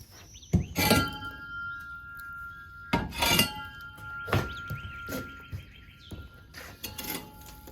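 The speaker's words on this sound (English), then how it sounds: "We're just going to evenly coat the top of this pan with some of these coals." Hot coals are set onto the lid of a cast-iron pan while cooking outdoors, giving several separate metallic clinks and scraping clatters in short bursts with quiet gaps between.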